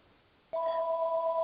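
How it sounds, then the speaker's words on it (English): A telephone rings abruptly in a quiet room, a sustained two-tone electronic ring starting partway through and continuing steadily and loudly to the end. "Sorry for the phone. I thought I had it muted."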